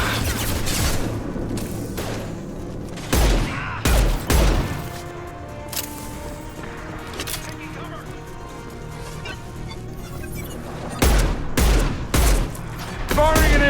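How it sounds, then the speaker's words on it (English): Gunfire in the video game Mass Effect 2 Legendary Edition, with loud bursts of shots and booming impacts arriving in clustered volleys over a steady background, while voices talk between and under the blasts. "Firing an impact shot."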